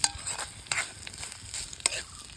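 Grated coconut fries in plenty of coconut oil for Kerala koottukari, giving a low, steady sizzle with a few sharp scrapes of stirring in the pan.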